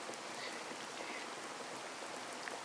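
Steady rain falls on grass in a video game, a dense, even hiss of drops with no pauses, filling the clip at a fairly quiet level.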